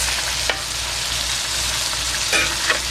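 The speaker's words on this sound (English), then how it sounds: "we're gonna go ahead and fry these up" Hamburger steaks fry in a pan, a steady close sizzle with a few brief stirring or scraping noises, no talking.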